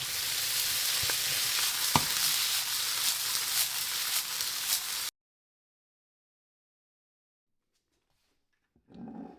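Broccoli and garlic sizzle in olive oil in a pan, a steady hissing fry with a couple of sharp clicks, which cuts off abruptly halfway into silence before a faint stir returns at the end.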